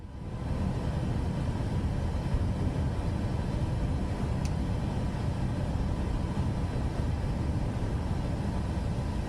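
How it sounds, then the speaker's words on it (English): An airliner's engines roar in reverse thrust on landing in Microsoft Flight Simulator 2024, a steady, loud, broad rumble that holds evenly throughout with no talking. "Keep the nose up. Reverse thrust."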